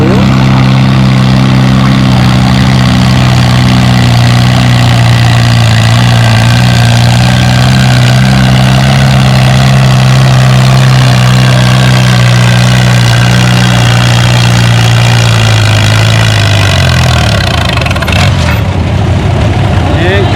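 A pulling tractor idles loudly at a tractor pull, with a steady deep drone that holds for most of the stretch before dropping in pitch near the end as the engine winds down.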